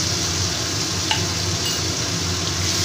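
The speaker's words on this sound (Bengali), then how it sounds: "এক চামচ জিরে আর ধনের গুঁড়ো আর আদা এক চামচ আদা বাটা দিয়ে দিলাম" Cumin and coriander powder with ginger paste fry in a pan while being stirred, producing a continuous close hiss of sizzling without pause and one faint tap of the spoon.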